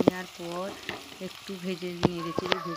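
Chopped onion and tomato sizzle together in a pan while being stirred, with occasional scrapes and clicks. A voice talks over the frying throughout.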